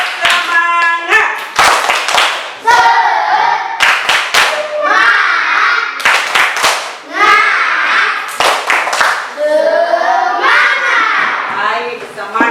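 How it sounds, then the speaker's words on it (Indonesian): Children in an Indonesian primary school class perform a rhythmic patterned spirit clap, sharp claps in groups alternating with loud chanted voices, close and energetic throughout. "Tepuk semangat."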